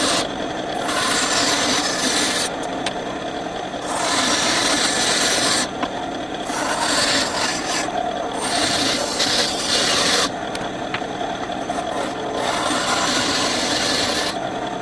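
Band saw cutting a heart shape out of scrap wood for an American flag piece, a steady loud rasping cut that rises and eases as the blade works through the board.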